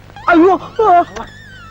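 A dog whimpering in two high, wavering whines close by, followed by a faint yip, in a Tamil comedy scene.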